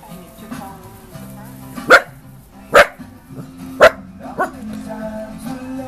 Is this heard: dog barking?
yes